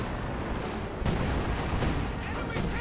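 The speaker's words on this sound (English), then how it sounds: "And another artillery barrage there." An artillery barrage in the Company of Heroes 2 strategy game, a dense, continuous roar of booming impacts and rumbling blasts with several sharper explosive cracks, with a commentator's voice partly buried in the din.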